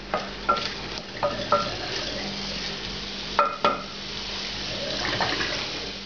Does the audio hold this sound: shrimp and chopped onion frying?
yes